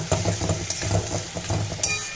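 Tomatoes and potatoes fry in a pan of meat masala, giving a steady close sizzle with faint scraping stir strokes throughout.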